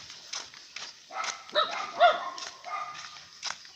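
A dog barks several times in quick, irregular bursts, fairly close, along a rural path where someone carries bamboo on foot; yips and whimpering tones mix between the barks.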